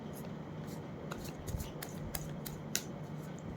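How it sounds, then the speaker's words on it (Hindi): Tarot cards shuffled by hand, producing soft papery riffles and small snaps close up against a quiet room hiss, with several brief crisp bursts. "एक शफ़ल और कर लूँ?"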